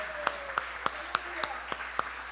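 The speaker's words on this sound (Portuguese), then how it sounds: "Vamos aplaudir ao Senhor pela vida da nossa querida irmã." A church congregation claps in an even rhythm, sharp single claps about three per second, faint and distinct over a quiet room.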